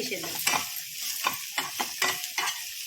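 Long beans fry in a pan with a steady crackling sizzle while a utensil stirs them in quick, irregular scraping strokes, close and fairly loud, with no talk.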